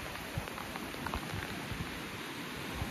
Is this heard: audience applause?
no